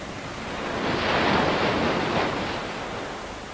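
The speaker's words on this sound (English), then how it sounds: "The waves emerge from under the flap and continue into the test area." Waves generated by a wavemaker flap surge through a ship test tank, a steady broad rushing wash that swells and eases slightly, heard alone without voices.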